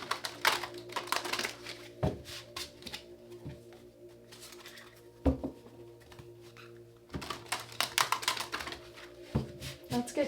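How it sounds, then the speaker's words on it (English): Tarot cards shuffled by hand in quick riffling bursts separated by short pauses and soft taps, close and fairly quiet. "Let's get 2 more shuffles"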